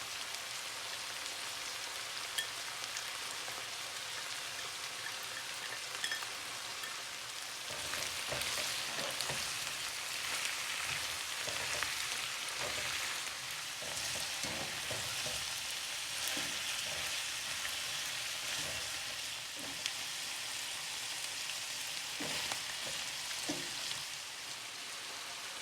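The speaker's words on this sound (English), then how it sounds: "Now you put your chopped ginger and garlic." Chopped ginger and garlic fry in a pan with a steady, faint sizzle that thickens into crackly spitting and some stirring partway through, with no one talking.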